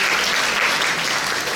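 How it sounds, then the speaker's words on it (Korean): Audience applause welcoming a Catholic priest at a symposium of the Catholic Priests' Association for Justice: dense, steady clapping from a full hall, loud and continuous throughout with no voices over it. "큰 박수로 모시도록 하겠습니다."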